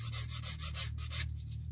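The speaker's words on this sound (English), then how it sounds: "sanding stick just to make sure there is no raised area" A sanding stick is rubbed over a plastic part from a 1/48 scale Kinetic F-104J Starfighter model kit, giving a series of quick, close scraping strokes in an even back-and-forth rhythm.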